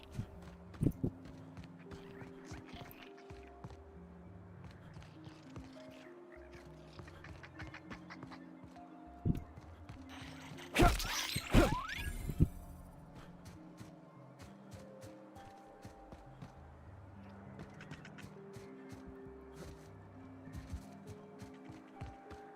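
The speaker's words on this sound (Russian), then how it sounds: "Курица." A chicken in the video game The Outer Worlds clucks in short, repeated bursts over a quiet game backdrop, with a brief louder clatter partway through.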